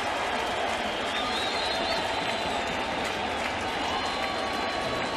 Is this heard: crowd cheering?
yes